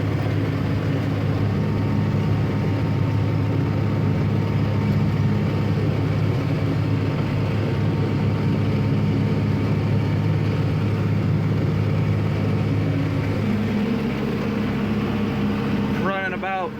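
An older tractor, run in about third gear, drones steadily as it pulls a stalk chopper through a harvested field, its low engine hum and broadband mechanical noise constant throughout, with a brief clatter near the end.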